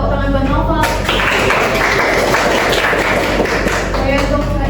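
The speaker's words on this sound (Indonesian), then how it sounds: "Bisa tepuk tangan buat Novel" Students in a classroom clap for a classmate, a loud close burst of scattered, uneven hand claps with thumps and taps mixed in, rising quickly and continuing steadily.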